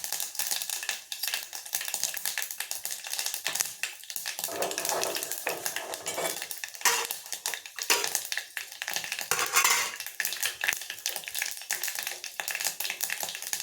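Mustard seeds and cumin seeds frying in hot oil in a pan, a continuous crackling sizzle with scattered pops and occasional scraping of a spoon against the pan.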